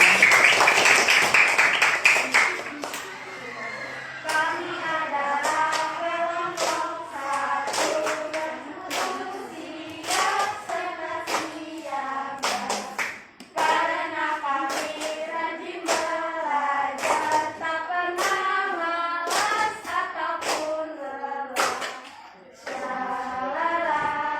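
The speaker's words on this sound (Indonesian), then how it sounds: "kasih tepuk tangan" An audience claps hands at a presentation on human needs: sharp, repeated claps at a steady rhythm over roughly twenty seconds, with a toned voice or music droning underneath throughout.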